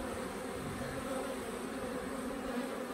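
A swarm of honeybees moves into a hive, making a dense, steady buzzing drone that stays close and even throughout, with no voices.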